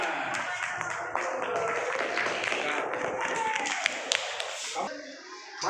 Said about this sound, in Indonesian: Ya, oke, beri tepuk tangan.